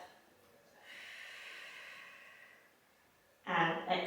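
A slow, audible breath drawn in and released during a Pilates session for runners, soft and airy, followed by a voice.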